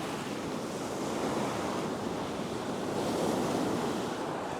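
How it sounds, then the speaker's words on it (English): Ocean waves pounding a steep shore-dump beach, a constant loud roar of surf with wind buffeting the microphone and no voices. "Because there's so much power in this shore dump."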